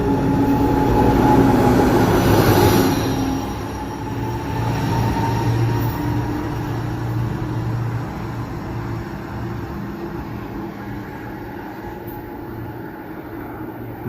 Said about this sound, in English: This is electric train Marc